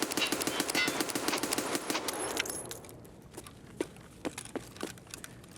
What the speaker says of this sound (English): let's rapid fire it a little bit